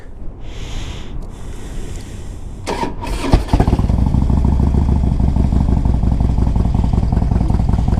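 A 2005 Harley-Davidson Electra Glide Classic with a 1550 big bore kit and about 61,000 miles cranks briefly, then fires and settles into a loud, close, steady V-twin idle.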